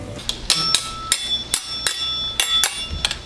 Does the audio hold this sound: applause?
no